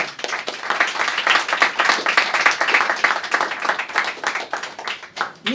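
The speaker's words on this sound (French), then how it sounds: "Si vous êtes d'accord, acclamez le Seigneur." Congregation in church clapping and applauding together, a dense, steady wash of many hands at close range filling the space without pause.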